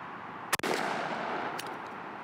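A Mossberg SA 28 gauge shotgun fires a Viper 8.5/9.5 blend hunting load outdoors, with one sharp close blast followed by a faint echo over steady background noise.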